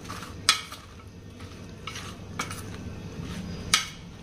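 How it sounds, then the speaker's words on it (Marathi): Vegetables for biryani being sautéed in a frying pan, low sizzling under clinks and sharp metal spoon knocks against the pan, with two loud strikes standing out. "म्हणजे परतून घ्यायचे सर्व भाज्या."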